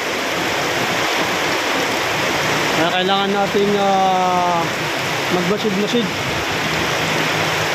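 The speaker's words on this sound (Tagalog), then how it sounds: "So, ito lang ang malakas na ulan." Heavy rain pours down on a farm during a sudden flood, making a dense, steady hiss that persists throughout while someone speaks over it in the middle.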